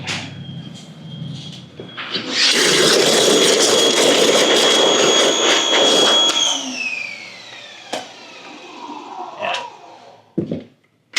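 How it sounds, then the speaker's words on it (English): A garage door rumbles open with a loud, steady mechanical whir for several seconds, then slows and winds down with a descending tone, followed by a few sharp clicks and knocks. "Let's open up the other side of the garage."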